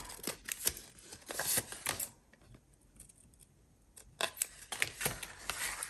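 Scissors cut paper and board for a junk journal in quick clusters of crisp snips, with a pause in the middle before the snipping starts again, close and fairly quiet.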